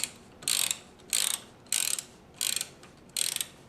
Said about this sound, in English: I'm going to use my socket and ratchet handle, and it's a 9mm socket that fits on there.